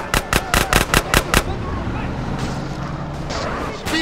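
Gunfire in the video game GTA San Andreas cracks out as a rapid burst of about eight loud, close shots, followed by engine rumble and a few fainter sounds.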